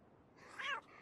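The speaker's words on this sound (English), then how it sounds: "Miniature kitty." A tiny kitten meows once inside the VR game Townsmen VR, a short, bright, fairly close cry rising over a quiet game background.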